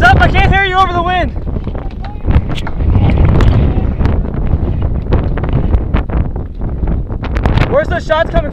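Wind buffets the microphone outdoors at a paintball field, a loud continuous roar that masks most other sound, with a brief whistle near the start and end and people talking over it.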